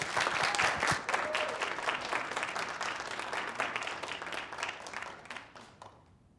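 Audience applause welcomes lecturer Letitia Huckaby at a keynote lecture: sustained, dense clapping from a crowd that holds steady, then thins and fades out over the last second.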